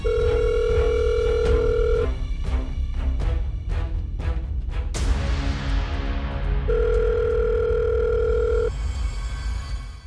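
A phone call rings unanswered: long electronic ringback tones and repeated short beeps come through clearly, with a brief burst of noise partway through.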